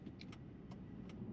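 Steady low road and tyre rumble inside a moving Jaguar S-Type R, with a few faint light ticks and rattles over the continuous drone.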